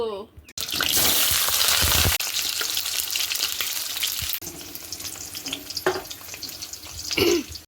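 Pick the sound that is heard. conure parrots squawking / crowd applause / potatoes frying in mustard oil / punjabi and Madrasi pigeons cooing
potatoes frying in mustard oil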